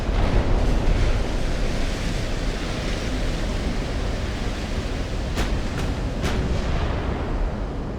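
Naval gunfire from 20-inch quad turrets in Ultimate Admiral: Dreadnoughts: a dense, steady roar of battle noise like sea and wind, with a few faint sharp reports later on.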